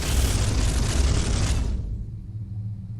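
A weapon blast in the video game Space Hulk rolls out as a loud, deep explosive boom lasting over a second, then cuts to a low rumbling tail.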